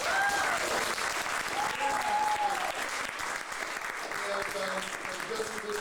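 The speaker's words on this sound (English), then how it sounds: "Can we get another round of applause?" Audience applause at a San Francisco poetry event, a full steady round of clapping from a crowd, with whoops and voices calling out over it.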